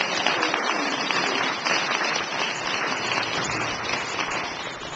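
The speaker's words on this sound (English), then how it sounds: "So may I have a round of applause for Dr. William." A panel forum audience applauds steadily, dense clapping filling the space at a constant level for several seconds with no talking.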